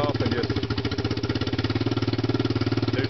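A Honda Rancher ATV engine with a straight exhaust runs with a loud, throbbing, pulsing rumble, steady and close, with no talk.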